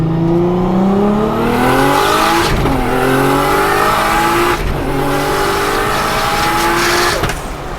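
An 800hp R34 GTR race car with an HKS RB28 and sequential gearbox accelerating hard on the street, engine note rising through several sharp gear shifts, loud and close from inside the car.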